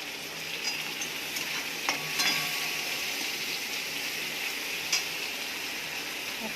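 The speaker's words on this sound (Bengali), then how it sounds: "পেঁয়াজটা ভাজা ভাজা হয়ে গেছে।" Onion frying in oil in a pan with bay leaves gives a soft, steady sizzle. A few sharp scrapes and clicks come from the stirring spoon, with no voices.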